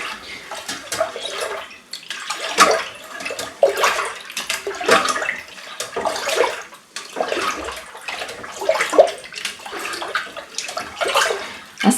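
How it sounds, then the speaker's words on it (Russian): Milk being stirred vigorously in a pot while making homemade Chechil braided cheese. Liquid sloshes and swirls in repeated surges, close and fairly loud, with no talking. "Я его вливаю. И сразу как следует перемешиваю."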